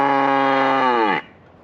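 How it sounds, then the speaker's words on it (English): A cow on a cattle farm lets out a single loud, drawn-out moo close by, its pitch sagging toward the end before cutting off into quiet. "Nope, that's Lizzo the Cow"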